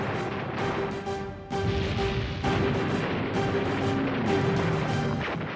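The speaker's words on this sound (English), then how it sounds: "Anti-aircraft fire sends planes crashing into the Coral Sea." Anti-aircraft fire during a World War II naval battle in the Coral Sea, heard as a string of heavy, crashing blasts over a dense roar, with a steady tone running beneath.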